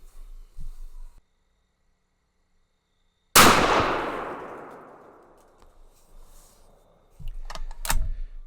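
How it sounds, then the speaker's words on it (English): A single Savage 110 rifle chambered in .300 Winchester Magnum fires one loud, sharp shot that rings out and decays over about two seconds, followed by faint clatter and handling noise. "All right, 3 more shots here."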